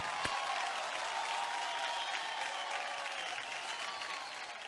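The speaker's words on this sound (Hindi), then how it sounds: "शाहिद के लिए एक बार जोरदार तालियां हो जाए." Studio audience at a comedy show clapping loudly for a guest, a dense, even wash of applause that fades slightly toward the end.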